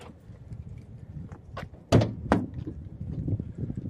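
The rear door of a 2017 Mercedes Sprinter 4x4 2500 diesel van is unlocked and pulled open, giving a sharp latch clunk followed by a second heavy thunk, with quiet shuffling around it.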